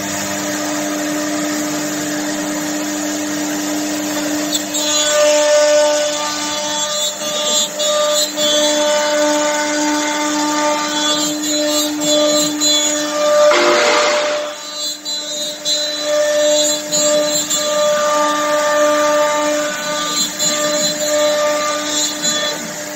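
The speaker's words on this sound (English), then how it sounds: "This is just a test program, again, just to show that it does in fact groove and that it does in fact cut." An AXYZ Panel Builder 5012 CNC machine grooves and cuts panels, giving a steady mechanical drone with sustained tonal whine and a brief louder burst of cutting noise midway, with no talk.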